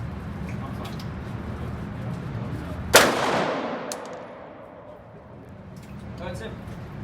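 A single sharp gunshot cracks at a gun range, loud and close, with a ringing decay trailing off over steady background noise.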